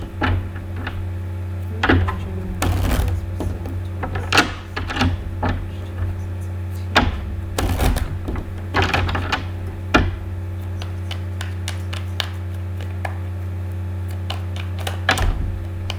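Repeated papery riffling bursts of cards being shuffled, close and crisp, over a steady low hum in the background, with no talking.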